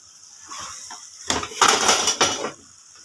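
A spoon clanks and scrapes inside a pot while kachnaar mutton curry is mixed, with a burst of close metallic knocks and wet stirring in the middle and quiet before and after.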